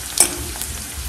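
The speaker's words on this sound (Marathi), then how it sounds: "चांगला कांदा 2 ते 3 मिनिट परतून घेणार आहोत गुलाबी होत येईपर्यंत" Chopped onion fries in a pan, a close, steady sizzle broken by a short scrape of stirring near the start.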